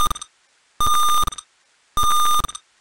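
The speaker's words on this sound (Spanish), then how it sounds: "Si lo alejo, entonces da los tres pitidos y vuelve a cerrar la barrera" A sharp electronic buzzer on an Arduino-controlled garage door barrier beeps three times in a steady rhythm, each tone clear and loud, separated by short silences with faint mechanical clicks between.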